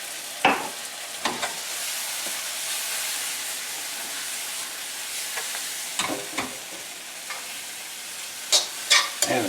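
Bok choy, shiitake mushrooms and garlic stir-fry in a hot pan with stir-fry sauce: a constant hissing sizzle broken by sharp scraping and clattering strokes of the utensil, close up.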